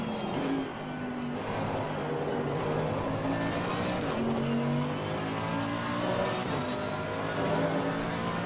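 A Porsche race car at Misano circuit accelerates hard, its engine note rising steadily through the gears with a strong, continuous roar that holds clear and close for several seconds.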